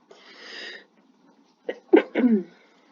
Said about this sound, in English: Excuse me for a second as I sneeze.